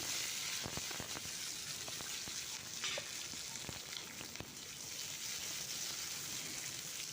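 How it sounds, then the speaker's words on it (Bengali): Quiet, steady sizzling of tomato frying in hot mustard oil in a wok, with scattered pops and crackles throughout. "কড়াইতে আমি সর্ষের তেল দিয়েছি দিয়ে এটাকে আমি ভেজে নিচ্ছি"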